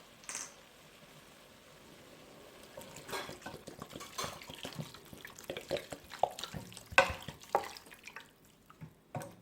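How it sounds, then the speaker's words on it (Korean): Water poured into a pot of beef for Korean yukgaejang, a quiet trickle and drips with light clinks of the pot, growing busier and splashier toward the end. "고기가 완전하게 익을 수 있게 물을 1리터 정도 넣겠습니다"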